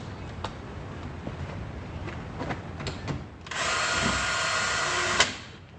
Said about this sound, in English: we're going to drill that in and screw it into the door face